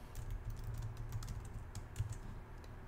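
Someone types code on a computer keyboard, producing quiet, rapid, irregular keystroke clicks in a steady stream, close but soft, with no talking.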